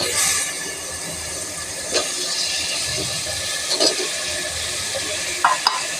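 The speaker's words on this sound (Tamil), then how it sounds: "மசாலா ஃபுல்லாக படுற மாதிரி நல்லா மிக்ஸ் பண்ணி விட்டுக்கோங்க." Chicken masala with potatoes sizzles steadily in a pan while being stirred, a continuous close frying hiss broken by a few soft scrapes and clinks.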